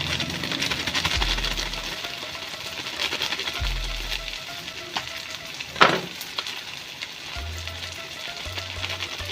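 Spices for chole fry in hot oil with a steady sizzle throughout, joined by a few low rumbling bursts and one sharp clatter near the middle.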